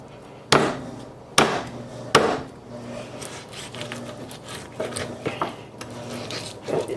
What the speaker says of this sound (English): I gotta chop my chicken. So 3 legs and 2 thighs. And we're just gonna whack through the bone, hopefully.